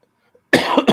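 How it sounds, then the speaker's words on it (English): A sudden close, loud cough comes out of near silence, a harsh burst followed by a second shorter hack, with no talking. "Oh, you still have that cough"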